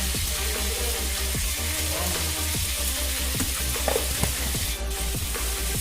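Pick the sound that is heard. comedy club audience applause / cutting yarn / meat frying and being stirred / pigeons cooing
meat frying and being stirred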